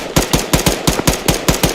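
Machine-gun fire in Arma III, a steady run of about ten sharp, evenly spaced shots over roughly two seconds, loud and close with no talk over it.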